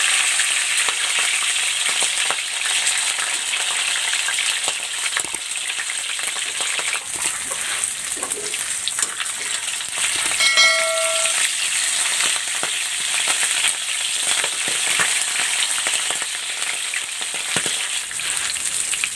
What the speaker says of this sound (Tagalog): Ipiprito ko muna itong isda. Ito ay binabad ko na sa asin.